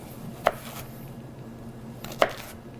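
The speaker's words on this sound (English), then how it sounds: "You're just going to cut some French fries." Two crisp knife chops, about two seconds apart, as a blade slices through potatoes to cut French fries on a board, fairly close and otherwise quiet.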